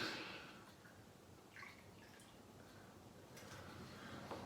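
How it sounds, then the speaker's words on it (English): Whiskey shots poured over a glass, faint liquid trickling and dripping with small splashes, quiet and close, with no talking. "Pouring the shots over the glass."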